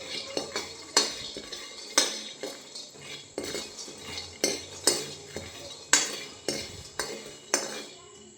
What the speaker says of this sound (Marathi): आणि आता शेंगदाणा टाकलं तर भाजायला कढईत